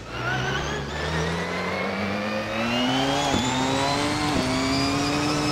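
A powerful car in the Forza Motorsport racing game, engine revving up steadily in a rising pitch through the gears, with a couple of quick shift dips, loud and close with no talking.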